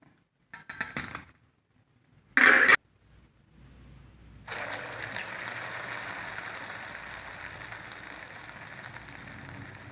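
Urad dal vadas for dahi vada fry in hot oil, a steady, fairly quiet sizzle that rises and holds after a few sharp clinks and brief bursts at the start.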